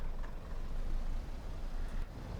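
Train brakes release in Train Sim World 5 on the Preston to Carlisle West Coast Main Line. A broad, loud air hiss sits over a rumbling engine, with a brief sharper puff near the end.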